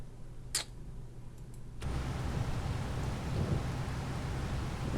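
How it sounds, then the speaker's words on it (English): Steady rain pours down loudly with a broad hiss, after a brief sharp thunder crack near the start, with a low rumble underneath, in a video game. "gonna have to wait for it to stop raining"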